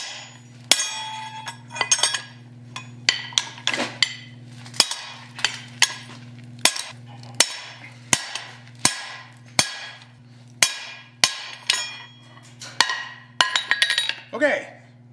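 A hammer strikes 1¼-inch square steel bar held in a spring fuller, ringing metallic blows landing in a steady rhythm about once a second, close and sharp over a low constant hum.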